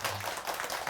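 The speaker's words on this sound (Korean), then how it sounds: "큰 박수 한번 부탁드리겠습니다" Audience clapping at a Buddhist dharma service in a temple hall: a brief, dense patter of many hands applauding together at moderate loudness.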